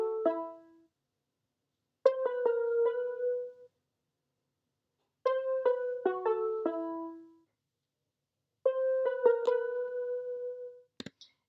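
Short bursts of a chopped, stepping synth arpeggio, notes cut off crisply between phrases, separated by silences; light and bouncy, no talking.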